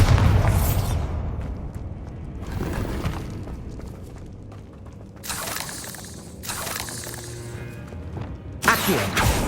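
Bombarda explosion spells in the video game Hogwarts Legacy go off as several loud, crackling bursts at irregular intervals, separated by quieter stretches of low rumble and mechanical creaks, with no talking.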